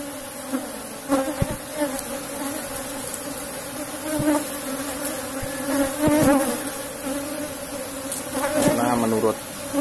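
Apis cerana honey bees buzz in a dense, steady swarm during a honey harvest, a close, continuous drone with shifting pitch.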